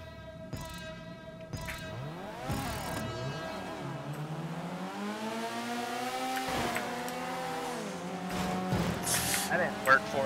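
A muscle car's engine in Grand Theft Auto V revs and climbs through gears over about ten seconds, the pitch sweeping up and dropping repeatedly with sharp shifts, fairly loud and steady under occasional noise.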